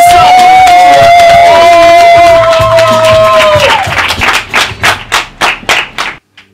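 Audience claps after a performance on a dance and music show, the applause fading into a scatter of separate claps toward the end, with a sustained tone and voices heard beneath it at the start.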